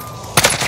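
Quick burst of gunfire from a GRAU and P90 loadout in a first-person shooter match, a sharp loud onset at mid-clip followed by several rapid rattling shots close by, with quiet game ambience beforehand.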